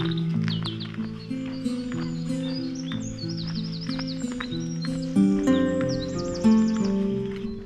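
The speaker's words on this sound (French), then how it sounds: "J'entends les oiseaux" Birds chirp and trill in the countryside of the Artois hills, with repeated high warbling calls over a steady low layered hum of other sounds.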